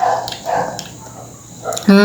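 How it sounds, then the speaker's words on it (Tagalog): A dog barks a few times at moderate distance, with people talking over and around the barks. "Tahol yan ng tahol."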